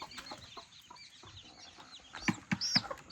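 A few short clucks and chirps from newly hatched chicks close by, coming in a quick cluster near the end against quiet background noise.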